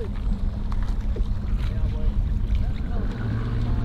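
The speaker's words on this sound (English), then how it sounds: "just keep paddling with our heads down until I feel better than I did" Paddle strokes and sloshing water on the open ocean near Catalina during an overnight long-distance paddle, under steady wind buffeting and a continuous low rumble, loud and close throughout.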